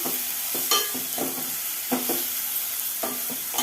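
Cucumber chutney ingredients fry in a pan with a steady close sizzle, broken by several sharp stirring scrapes at uneven intervals, loud and with no voices.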